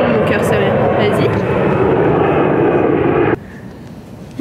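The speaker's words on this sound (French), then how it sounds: "C'est l'avion" An airplane passes overhead with a loud, steady engine roar that cuts off abruptly near the end, leaving quieter background.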